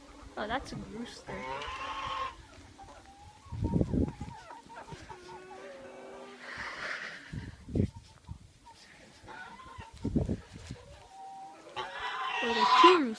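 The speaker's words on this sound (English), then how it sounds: "Oh, that's a rooster." Chickens on a family farm cluck and squawk in short bursts, with rooster calls heard fairly close, while a person talks throughout between them.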